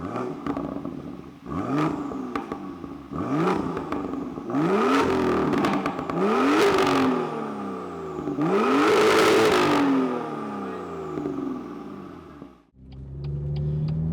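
A BMW M2 engine revved in a series of sharp blips, each rising quickly then falling back, loud and close, with longer sustained revs toward the end before the engine settles.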